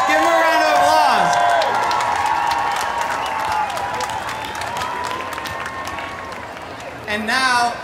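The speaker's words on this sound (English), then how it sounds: "Give them a round of applause." A crowd at a Barclays event at Pride in London 2016 bursts into sustained applause and cheering, loud and close, with whoops and tonal music-like sounds running through, and a voice speaking over it.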